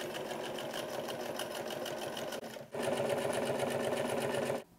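Sewing machine stitching a shirt collar flap in rapid, even bursts, close and clear, with a brief pause midway before the stitching resumes.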